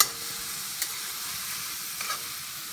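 Coriander seeds fry in hot oil for Punjabi bhindi, a steady airy sizzle with a couple of faint clicks and pops, quiet and continuous with no talking.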